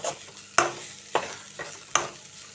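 Amaranth leaves stir-fried over a high flame crackle with a low steady sizzle, punctuated by three sharp spatula scrapes against the pan at roughly even intervals, close and without speech.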